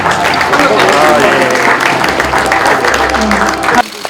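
A hall audience at an investment briefing for the Daegu-Gyeongbuk new airport applauds in a loud, dense, sustained roar of clapping mixed with crowd noise, breaking off sharply near the end.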